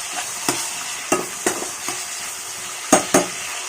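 Tamarind and drumstick leaves fry in a pan for a South Indian pickle, stirred with a spoon. About seven sharp scraping strokes land at uneven intervals over a soft, low sizzle.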